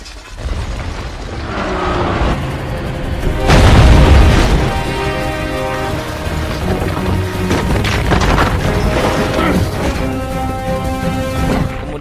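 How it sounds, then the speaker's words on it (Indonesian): A building blows up in a scene from the film Spectre, a loud sustained blast with deep rumbling swelling midway, layered with dramatic orchestral score throughout. "Dan gedung itu pun seketika meledak dengan sendirinya."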